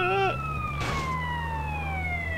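An ambulance siren in the video game GTA San Andreas wails steadily with a bright, sustained tone, briefly broken by a short noisy impact near the middle.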